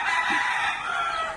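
A single fighting rooster crows loudly and close in a courtyard in Ecuador, one sustained cock-a-doodle-doo call.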